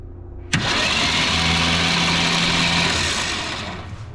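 1965 Ford Falcon engine turning over, a sharp catch followed by a steady, loud running drone that holds for several seconds and eases slightly at the end.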